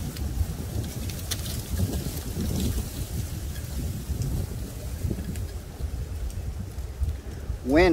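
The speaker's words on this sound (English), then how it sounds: "Wind like this is a good indicator that there is weather coming in." Wind blowing through woods ahead of incoming weather, a steady, full roar of gusting air and rustle that swells and eases throughout, with a brief tonal chirp right at the end.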